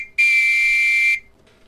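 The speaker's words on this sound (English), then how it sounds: "the policeman quickly blew his whistle to clear the crowd" A policeman's whistle gives one steady, shrill, piercing blast lasting about a second, loud and close, then cuts off into near silence.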